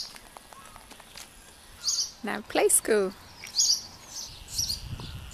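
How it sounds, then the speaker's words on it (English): A house sparrow chirps in short bright bursts close by in a Cornish village street in Boscastle, mixed with people talking over quiet outdoor background noise. "It's a little house sparrow. He's making so much noise."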